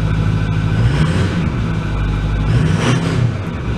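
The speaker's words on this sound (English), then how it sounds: "I'm touching the throttle about like that." A 2008 Ford F250 with a 6.4L diesel and a DPF delete rumbles loud and close as the throttle is touched, a steady, heavy engine drone with slight swells and no talking.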